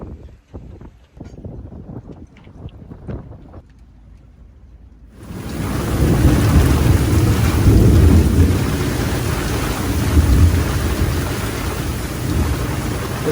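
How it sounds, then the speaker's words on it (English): After scattered drips and knocks, heavy rain from Hurricane Erin suddenly pours down in a loud, dense roar, with low rumbles of thunder underneath. "all that rain we didn't get over the afternoon, it's here."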